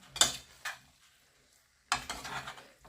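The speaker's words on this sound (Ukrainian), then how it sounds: "І гарненько все змішуємо." Two short bursts of a spoon scraping and stirring through lazy cottage cheese dumpling mixture with melted butter in a pot, separated by a quiet pause, close and moderately loud.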